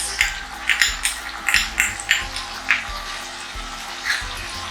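Garlic sizzles and crackles in a hot pan as chili paste, soy sauce and tomato sauce are added, with a run of sharp spattering bursts close by, no talking.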